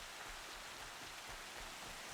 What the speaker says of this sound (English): I love this running in the rain right now.